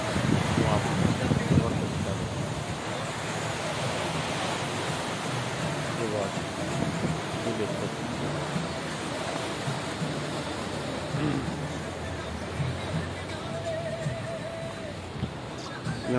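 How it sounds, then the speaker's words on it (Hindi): Water rushes steadily through the Hathnikund barrage dam on the Yamuna River, a constant broad roar that fills the whole clip at an even level, with a faint voice over it. "आ रही है ना पानी की आवाज़।"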